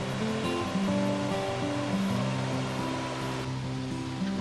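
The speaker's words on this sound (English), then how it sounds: "I love the sound of the waterfall" A steady, dense rush of falling water roars continuously without pause, broad and full, with no voices.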